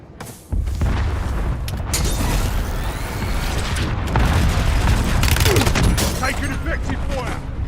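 Dense, sustained gunfire and booming explosions from a Call of Duty Warzone battle, loud and continuous with overlapping bursts after a brief quieter opening.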